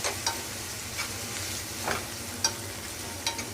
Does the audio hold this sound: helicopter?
no